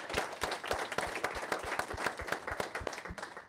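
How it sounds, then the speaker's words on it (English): Applause from an audience at a ProductTank Auckland product meetup, thanking the hosting PushPay team; steady, close clapping from a moderate crowd, with distinct individual claps running throughout. "Round of applause for the PushPay and the PushPay team."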